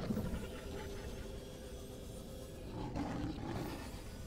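A sea lion creature in the video game Subnautica lets out a deep, growling roar that rumbles steadily and then swells louder near the end, with no speech.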